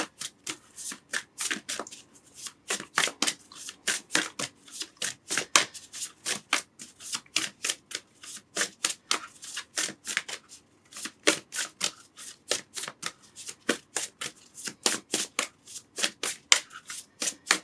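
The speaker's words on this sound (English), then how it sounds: "Let's give a shuffle and see what comes out." Rapid riffling bursts of a 36-card oracle deck being shuffled repeatedly, crisp and close, in a steady rhythm of quick flutters with short pauses between.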